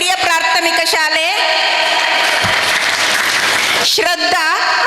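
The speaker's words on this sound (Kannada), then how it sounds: "ದೊಡ್ಡ ಕೈ ಚಪ್ಪಾಳೆ ಮಕ್ಕಳೇ ಪ್ಲೀಸ್" A group of children at a Yakshagana training centre event gives a burst of clapping, a dense crackle lasting a couple of seconds, with a voice announcing names before and after.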